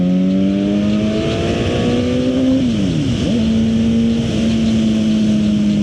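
A Suzuki GSX-R 750 sport bike is ridden, its engine droning loudly and steadily with rising pitch through the gears and a brief drop and climb during a shift, with wind noise and no talking.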